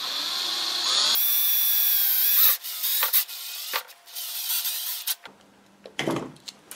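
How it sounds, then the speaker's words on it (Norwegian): A power drill bores into plastic Boba Fett costume armor: a long continuous whining grind, then several shorter bursts with brief pauses between them, close and loud. "Mens du driver og borer sånn her, så blir det mye plastikkspon."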